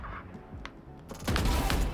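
Gunfire in a first-person shooter game breaks out as a dense, loud burst of rapid shots in the second half, after quieter game ambience and faint clicks.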